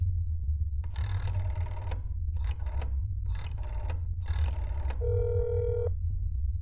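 A telephone in a video game: several short tonal bursts like dialing beeps, separated by brief gaps, followed by a steady ringing tone, all over a constant low hum.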